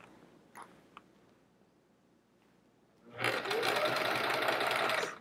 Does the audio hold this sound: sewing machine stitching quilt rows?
yes